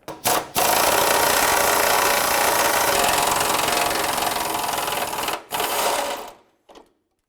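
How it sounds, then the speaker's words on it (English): An air gun with a swivel socket rattles on a bumper bracket bolt of a 2003-2021 Chevrolet Express 3500. Two close, buzzing bursts are heard, a long one of about five seconds and then a short one, before it stops. "I'm going to use a swivel on my air gun on the bolt side"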